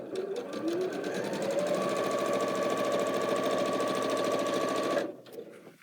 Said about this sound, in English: Now I'm just chain piecing.